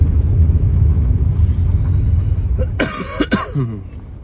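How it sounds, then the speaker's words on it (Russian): A few harsh coughs burst out close to the microphone after a stretch of low rumbling background noise inside a car driving through a city. "Кашель замучил уже."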